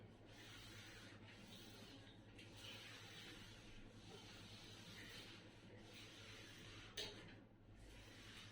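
A duster or cloth rubs writing off a classroom board in a science class, a steady scraping swish that keeps going the whole time, with one brief knock near the end.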